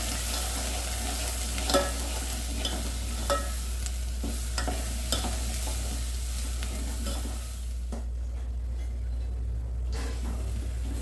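Onion, garlic, turmeric and homemade ground masala sautéing for mutton curry: a steady close sizzle with repeated spoon stirs and scrapes against the pan, no voices.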